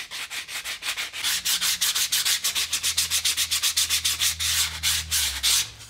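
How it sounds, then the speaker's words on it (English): A small belt sander in a wood shop softens and rounds over wooden edges, making a loud, rapid series of rhythmic rasping strokes with a low motor drone underneath and no talking. "The small belt sander is really nice to use for a spot like this that is difficult to catch on the bigger sanders"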